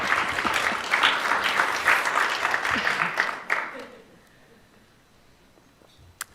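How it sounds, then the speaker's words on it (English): An audience applauds the Ontario Minister of Education at an event, a loud, dense clapping that lasts about three and a half seconds, then fades to near silence with a faint voice. "thank you for applauding"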